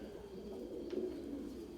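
White breeding pigeons coo softly in a loft, a low steady murmur of several birds close by with no voices over it.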